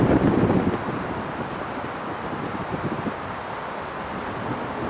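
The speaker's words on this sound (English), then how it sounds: "Wow, the wind's incredible here." Strong wind at Kylesku bridge in Scotland roars steadily into the microphone, a loud buffeting gust at first easing into a continuous rushing bluster.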